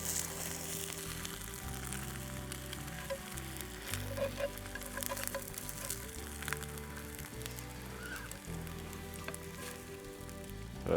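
Fries sizzling and crackling in a hot pan, a steady dense frying hiss with scattered pops running throughout, close and alone without speech.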